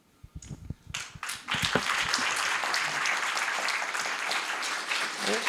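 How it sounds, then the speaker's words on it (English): Audience at a seminar applauding panelists: a few scattered claps first, then dense, steady applause swelling and holding loud through the end. "Let us give all the panelists a great applause."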